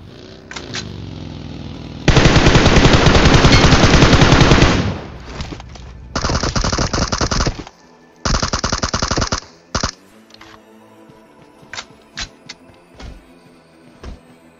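Rapid automatic gunfire bursts from a battle royale video game: a long sustained spray, then two shorter loud bursts, followed by scattered single shots and faint clicks.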